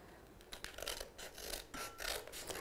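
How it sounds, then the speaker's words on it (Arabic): Scissors cut through black cardboard in short, crisp snips and rasping strokes, close and fairly quiet, with a few brief pauses between cuts. "قصيت الكرتون السودا حسب الكرتونة اللي اخترتها من فوق"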